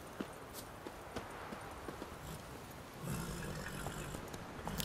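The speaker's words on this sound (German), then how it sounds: "Und hier ist mal wieder ein einsames Pferd." Horse hooves clip-clopping in The Witcher 3, a lone horse walking at a steady rhythm, fairly faint and close, with ambient game sound around it and a louder stretch near the end.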